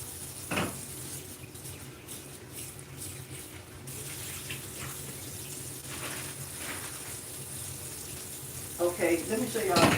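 Tap water runs into a kitchen sink as two peaches are rinsed under it, a steady broadband splash with brief louder bursts and clattering near the end, while a person talks over it.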